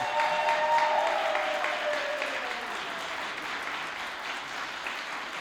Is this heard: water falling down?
no